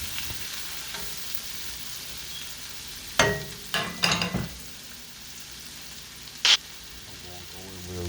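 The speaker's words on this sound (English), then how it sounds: "Now I'm adding my shrimps, and I'm going to only cook them probably like for 4 minutes" Shrimp fry in a hot pan with a constant soft sizzle, punctuated by a few sharper bursts of crackling and spatter as they hit the oil, heard up close.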